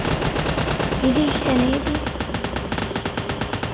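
Rapid automatic gunfire rattles continuously in PUBG Mobile, dense and loud bursts throughout, with someone speaking briefly over the shooting.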